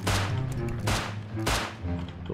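Bursts of rapid gunfire crackle loudly in quick succession in the game Rust, with a few heavier volleys breaking through a constant game-like din.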